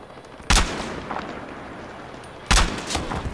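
Two loud, sharp gunshot blasts from a Battlefield video game fire about two seconds apart, each leaving a rumbling tail, with fainter distant shots in between.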